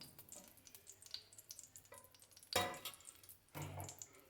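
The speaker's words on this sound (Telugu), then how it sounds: "ఇవన్నీ చిల్లీస్ వేగిపోయి తీసేసుకుంటున్నాను నేను." Red chillies fry in a pan and are lifted out, making a soft intermittent sizzle with two sharper bursts of crackle and scraping.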